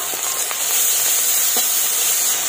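Cumin, ginger paste, chopped tomato and ground spices frying in a pan for a Bengali vegetarian thali, giving a loud, dense, continuous sizzle and hiss up close, with a few faint stirring strokes and no voices.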